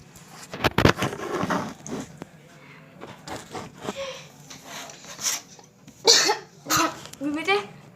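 Repeated coughing from someone faking a cough as a prank, in several loud bursts with brief breathy pauses, a few throat-clearing sounds and sniffs mixed in.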